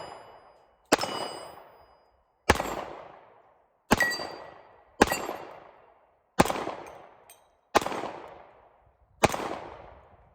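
Seven sharp, loud gunshots from a Colt Combat Commander 1911 .45 ACP pistol, fired one at a time about a second or so apart, each crack followed by a short ringing decay.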